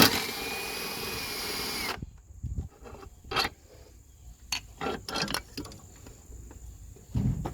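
A power tool works at the bolts of an engine mount on a 1999 Honda Accord, starting with a loud two-second whir, then quieter short bursts and clanks against faint background hiss, with no talk.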